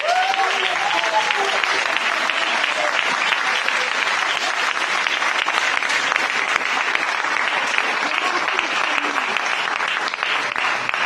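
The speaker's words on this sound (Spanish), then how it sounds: "Si el aplauso fue para los hermanos, estuvo bien" A church congregation applauds during a Spanish-language sermon, a dense, steady roar of many hands clapping that continues evenly for about eleven seconds, with a few faint voices mixed in at the start.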